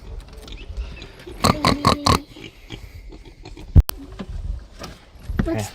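Pigs on a Virginia farm grunt and oink close by, a quick run of four loud, rhythmic grunts, then quieter snuffling with a sharp knock near the end.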